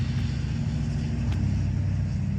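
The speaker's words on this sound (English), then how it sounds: "Not sure why a guy wants to pull up in his freaking loud truck and just sit here." A loud truck idles close by, its engine a steady, heavy low rumble that holds evenly through the whole stretch with no speech over it.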